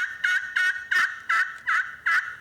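A turkey call worked loudly to imitate a hen, six sharp evenly spaced yelps in a quick rhythm, close and clear with nothing else heard.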